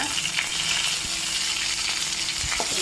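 Dried red chili and curry leaves tempering in hot oil for spinach kadayal, a steady loud sizzle and crackle running throughout with a few small pops.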